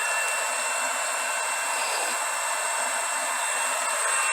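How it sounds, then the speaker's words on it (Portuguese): Homemade blower built around a small compressor, running steadily with a constant airy whine and hiss, unchanging and fairly loud, with no voices. "a gente montou o nosso soprador. Tá funcionando aí bem bacaninho"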